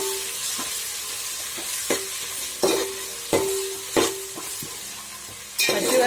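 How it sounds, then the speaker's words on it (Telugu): Ginger garlic paste is stirred into onions frying for prawn biryani: a steady close sizzle broken by several sharp spoon scrapes and knocks against the pan at an uneven pace. "ఆనియన్స్ ఫ్రై అయిన తర్వాత జింజర్ గార్లిక్ పేస్ట్ వేసుకుని కలుపుకోవాలి."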